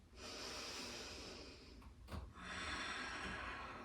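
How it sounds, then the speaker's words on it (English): Strong, forceful breathing during a yoga class, with loud, rushing breaths close to the mic and a brief sharp snort-like intake in the middle, no talking. "Strong breathing."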